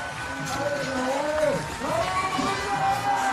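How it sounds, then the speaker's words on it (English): Crowd cheering and whooping at a BMX freestyle flatland World Cup final in Montpellier, a steady near roar of voices and shouts lasting throughout with a brief dip in the middle. "The crowd here is incredible"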